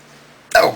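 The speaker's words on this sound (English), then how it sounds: "It causes hiccups." A single short, loud hiccup jumps out abruptly after a near-silent pause, close to the mic and alone.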